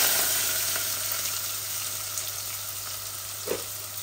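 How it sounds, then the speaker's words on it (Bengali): Onions sizzling as they go into hot oil in a Bangladeshi home kitchen pan for chicken bhuna, a steady broadband frying hiss that eases slightly over time, with a brief stir or clatter near the end and no talking. "এখন আমি পেঁয়াজ দিয়ে দিচ্ছি।"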